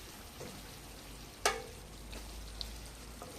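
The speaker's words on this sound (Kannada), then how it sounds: "ಮಿಕ್ಸ್ ಮಾಡಿಕೊಂಡು ಒಂದು 2 ಮಿನಿಟ್ಸ್ ಫ್ರೈ ಮಾಡ್ಕೊಳ್ಳಿ" Chicken liver frying in a pan makes a quiet, steady sizzle, broken by one sharp clink near the middle and a couple of faint taps, with no talking.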